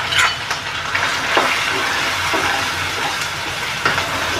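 Garlic and bay leaves fry in hot oil while preparing a crab gravy masala, giving a steady, close crackling sizzle with occasional stirring clicks and pops and no speech.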